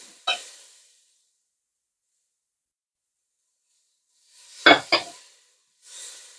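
Lamb frying in oil with a stir, giving brief loud hissing sizzle bursts close up, a short one at the start and a stronger double burst later, with near silence between.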